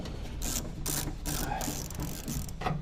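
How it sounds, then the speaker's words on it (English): A socket wrench ratchets in short bursts while bolts are undone inside the boot of a Toyota 86, the rapid clicking pawl heard close up in several separate strokes with brief pauses between them. "So just undo them carefully before you move the socket away."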